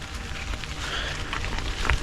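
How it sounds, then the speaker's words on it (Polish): Steady rain falls during a multi-day bicycle trip from Częstochowa to Kraków, a continuous broadband hiss with a few brief louder patters near the end and no talking. "pada deszcz"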